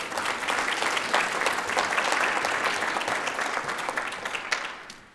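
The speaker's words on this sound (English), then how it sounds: "Let's welcome, get those crowd interaction hands going on, Dr. Shalamar Armstrong." An audience applauds a speaker being introduced at an agronomy lecture on nitrogen in cash crops, a dense, steady clapping that stays loud for about five seconds and then fades out.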